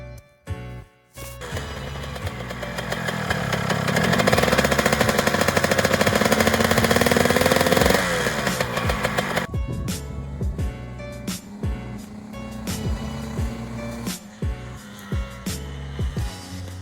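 A freshly built Honda CR125 two-stroke dirt bike being broken in during carburetor testing: a rapid, crackling engine revs up to a sustained loud, buzzing howl, then drops back to a sputtering, popping idle of sharp irregular bangs.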